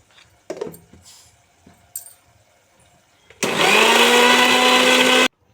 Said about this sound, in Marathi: आता आपण त्याची बारीक मिक्सरला पेस्ट करून घेऊया